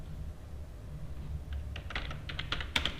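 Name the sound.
typing Java code on a computer keyboard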